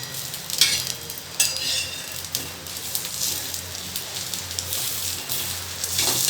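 An egg fries in oil for an egg roll, crackling with a close, continuous sizzle broken by occasional sharper spits and pops.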